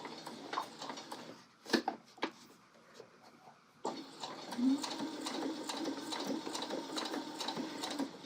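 Home sewing machine stitching a coat seam a scant quarter inch from the edge, a few short bursts of rapid ticking stitches, then a longer continuous run of close, moderately quiet whirring and clicking.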